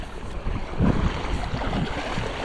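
Waves rocking a person riding a small boat on the sea, heard as a steady wash of water and wind rumble close to the microphone with a few heavier surges, no voices.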